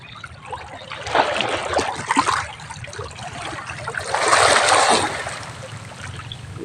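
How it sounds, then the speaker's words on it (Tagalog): Water waves slosh and splash against the shore in uneven surges, swelling louder twice, with a steady low rumble underneath and no talking. "habang hinahampas ang tubig dito sa baybay"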